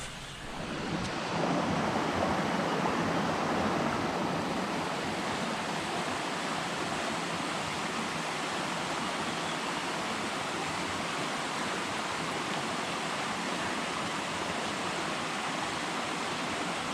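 Near Maunawili Falls trail, a flowing stream gives a steady broadband rush that keeps up without a break at moderate loudness, with no voices over it.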